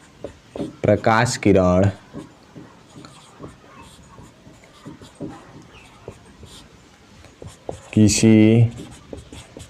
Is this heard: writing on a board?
yes